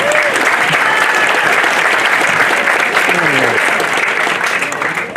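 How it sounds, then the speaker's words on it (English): Sustained, dense round of applause from an audience at a lighthouse relighting ceremony, steady and loud throughout, with faint voices mixed in and a slight fade at the end. "I think Bobby may get an appropriate round of applause too."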